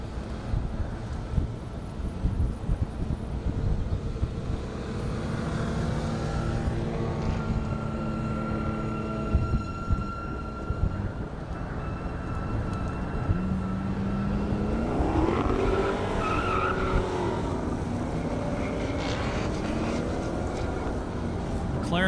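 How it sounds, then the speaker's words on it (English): McLaren drag racing car making a half-mile run at an airport airstrip event in Indiana, heard as a distant engine roar that rises in pitch through the gears under wind noise and commentary. "Dale Sneed in that McLaren coming up."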